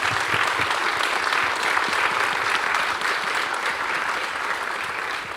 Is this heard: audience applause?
yes